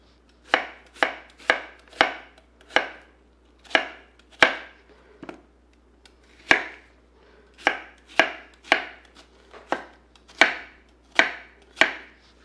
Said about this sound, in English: I'm just going to rough chop the onions and the garlic